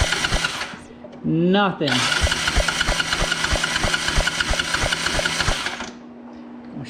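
An old engine being cranked over to check for spark gives a loud, steady run of rapid chugging pulses, with a brief rising whine near the start and no voices.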